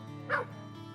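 A Kentucky Woodland Hound, a hunting dog, gives one short, fairly quiet bark or yip partway through, over a steady low background hum indoors.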